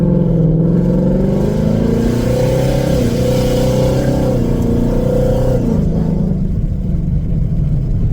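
A Ford Mustang S550 with stainless headers idling in track mode gives a loud, deep, rumbling exhaust burble that swells and dips slightly before settling, heard close and with no talking.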